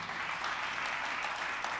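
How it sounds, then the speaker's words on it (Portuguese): Congregation applauding at a church service, a steady dense wash of clapping from many hands throughout, fairly close and even in level. "Pode aplaudir mesmo."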